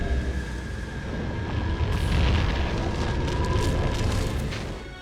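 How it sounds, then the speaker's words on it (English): A massive sci-fi superweapon blast, the Starkiller weapon firing in a Star Wars film, builds into a sustained deep rumbling roar with crackling bursts, loud and continuous for several seconds with no speech. "The Starkiller weapon itself had to be bigger than the Death Star firing."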